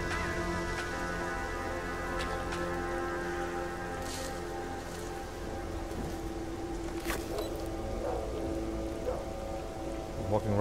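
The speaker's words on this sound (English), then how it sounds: "Oh, it's starting to rain?" Steady rain falls in the video game STALKER Call of Pripyat, a continuous hiss of drops on surfaces throughout, with faint scattered clicks and no talking.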